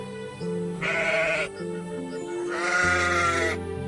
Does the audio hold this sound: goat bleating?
yes